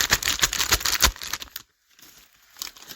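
Plastic cheese packaging crinkles and rustles loudly up close while lasagna is being prepared, then falls briefly quiet before a faint rustle returns.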